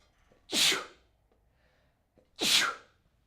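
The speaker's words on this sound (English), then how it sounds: "I'm going to sneeze." Two loud sneezes about two seconds apart, close to the mic, each with a sharp burst and a breathy tail, in an otherwise quiet room.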